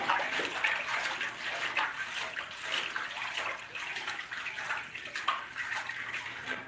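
Hot forged steel is quenched in cold water at a blacksmith's forge, giving a sustained sizzling hiss and bubbling of water that swells and fades in waves, fairly quiet with no voices.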